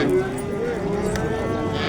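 A cow lowing at a busy livestock market in Chust, one long sustained moo over steady crowd and market background noise.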